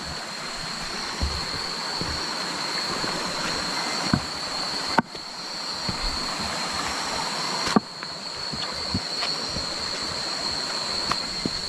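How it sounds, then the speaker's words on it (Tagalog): A noisy river rushes in a steady, loud wash of broadband water noise with a few sharp clicks and knocks, and nobody speaks. "maingay kasi yung ilog bro"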